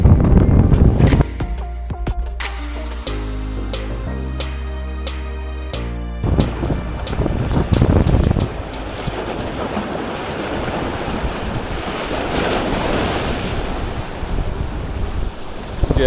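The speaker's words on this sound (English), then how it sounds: "it's gotten really windy." Strong wind blows over open water on a fishing outing in Mexico, a loud continuous rushing and buffeting with gusty surges, close microphone wind noise and waves churning underneath for the whole stretch.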